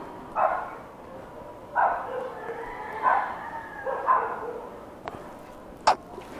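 A dog barks from a short way off outside a house, four single woofs spaced about a second apart, followed by two sharper sounds near the end.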